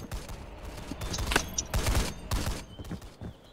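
Bursts of gunfire crackle in Roblox Blackhawk Rescue Mission 5, a rapid irregular volley of shots at moderate distance repeating over a few seconds, without talk.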